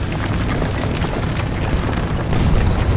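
A heavy, booming impact as a shell hits the player's tank in War Thunder, a dense, loud rumbling blast filling the whole moment with no talk over it.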